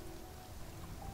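Soft, steady rainfall in the video game Spiritfarer, a faint, even patter that fills the brief moment alone.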